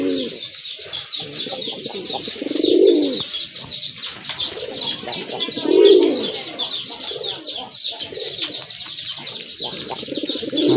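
A male gola pigeon, a native breed, coos in repeated low, throaty bursts about every three seconds, close and clear over constant high-pitched chirping from other birds nearby.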